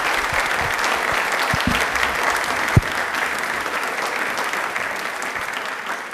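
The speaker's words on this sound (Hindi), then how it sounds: "Please एक बार जोरदार तालियां हो जाएं" Audience applause at a Rajasthan broadcast question-and-answer program about railways, a steady, dense wash of clapping from a large crowd, even in loudness with one sharp louder clap near the middle.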